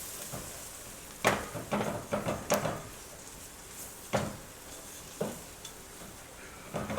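Flour is sprinkled into a pot and stirred for chicken noodle soup, giving a series of scraping, clattering stirring bursts over a faint steady sizzle.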